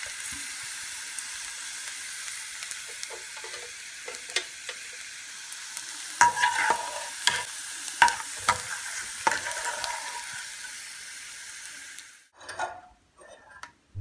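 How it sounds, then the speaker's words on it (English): Steady hiss and crackle of bitter gourd frying in hot oil, with occasional scraping stirs and clinks, fading out near the end. "I love this wonderful aroma of frying bitter gourd"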